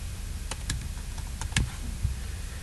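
Keys clatter on a computer keyboard as a name and password are typed, a quick run of separate close clicks with short pauses between bursts, heard alone without talk.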